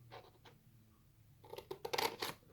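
Scissors snip through paper while a Christmas trinket box is being made, giving a few soft, close cuts followed by a quick burst of sharper crisp snips.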